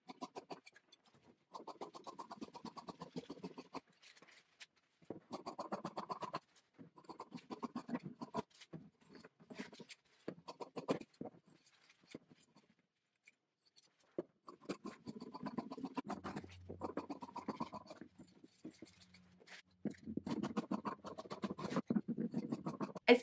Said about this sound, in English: hopefully you could all enjoy the sounds of me cutting this out